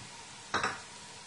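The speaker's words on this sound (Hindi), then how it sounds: "और तकरीबन 2 मिनट के लिए हम इसे हाई फ्लेम पर जो है वो फ्राई करेंगे" Chicken with onion and capsicum on a high flame gives one brief sizzling hiss as the food is stirred or tossed in the pan, against a quiet kitchen background.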